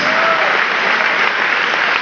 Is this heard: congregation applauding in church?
yes